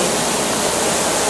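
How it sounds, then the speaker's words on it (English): On a studio backlot, water nozzles rigged above a tram spray a sudden artificial rain shower, a loud and steady broadband hiss of falling water that stays close and continuous with no voices over it. "This sudden shower is really just a special effect."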